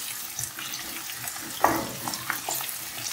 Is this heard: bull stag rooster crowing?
no